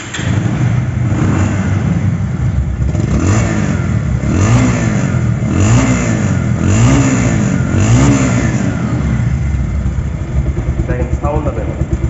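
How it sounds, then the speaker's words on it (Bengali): A 2022 Bajaj Pulsar double disc motorcycle engine runs loud and close, revving repeatedly in rising and falling surges over a steady idle. "তো বাইকটা এখন সাউন্ড কোয়ালিটি শোনাবো।"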